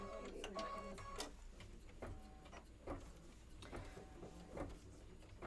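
An embroidery sewing machine stitches a book spine detail, a steady rapid mechanical clatter and hum with rhythmic thumps, close and moderately quiet throughout.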